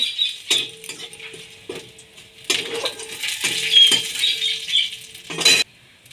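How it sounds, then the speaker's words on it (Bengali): Metal utensil scraping and tapping in a pan, in irregular bursts of stirring crushed garlic, dried chilli and sugar, with a faint sizzle underneath, close and fairly loud. "রসুন ছেঁচা, আর স্বাদ মতো চিনি দিয়ে ভালো করে নেড়ে নেব।"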